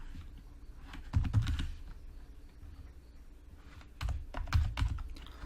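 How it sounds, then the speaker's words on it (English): Keys clatter on a computer keyboard as a paragraph is typed, in two dense bursts of rapid clicks separated by a quieter stretch of lighter, sparse tapping, with no voices. "So I'm just going to type out the first paragraph."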